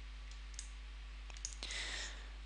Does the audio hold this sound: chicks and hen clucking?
no